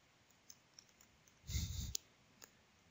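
A computer mouse clicking during software configuration, a few faint isolated clicks around a brief louder burst of handling noise in a quiet room.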